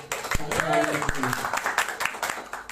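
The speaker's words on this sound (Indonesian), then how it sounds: "Tepuk tangan untuk" Audience applause at a community gathering for a village family-planning program, a steady crackle of many hands under a speaking voice throughout.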